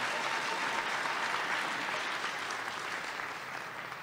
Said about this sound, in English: Based on the applause, she's more popular than you, Jason.